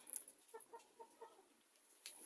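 Moulting hens cluck softly in a few short, faint calls, with no talk over them.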